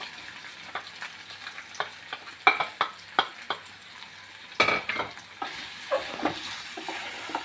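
Onions and green chillies sautéing in a pan: a soft continuous sizzle broken by repeated sharp scraping and stirring taps from a spatula, close by and with no talking.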